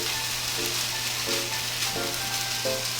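Sausage briefly frying in a pan to warm it through for a Korean laver roll, giving a steady close sizzle with a few soft stirring scrapes and light clinks, no voices.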